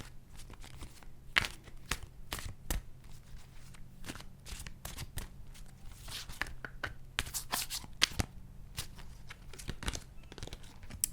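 A deck of tarot cards being shuffled by hand, soft crisp riffles and papery slaps in irregular bursts, close and fairly quiet.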